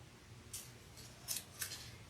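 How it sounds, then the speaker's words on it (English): Scissors snip paper while making an Easter bunny craft, three quick crisp cuts spaced over about two seconds, close and quiet with no talk. "Probably need to use some more scissors."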